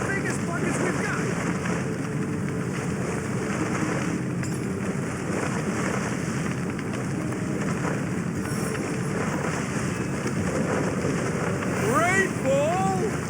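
Rain falls in the video game Divinity: Original Sin, a steady hissing wash under wind-like noise with faint voices murmuring through it.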